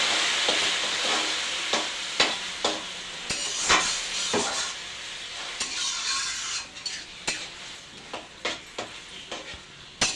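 Hot cooking pan sizzling steadily after a little water is added, with a spatula scraping and stirring in repeated strokes, close and clear, with no talking.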